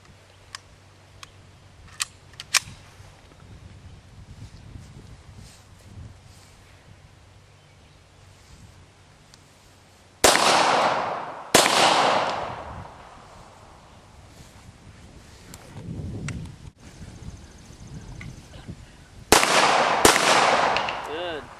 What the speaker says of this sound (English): So that's a controlled pair. Where it's 2 shots, 1 sight picture,